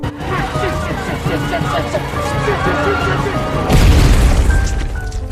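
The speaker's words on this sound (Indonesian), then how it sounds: "Gary yang sudah kebawa emosi langsung melabrak pria tersebut dan memasukkan bom granat ke dalam celananya" A grenade explodes in a scene from the 2020 film The Hunt, a sudden loud broadband boom bursting out near the end over a busy backdrop of voices and film sound.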